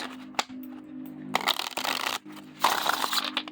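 A tarot-size card deck with matte chocolate edging is shuffled in two riffle bursts with a soft pause between, close and clear.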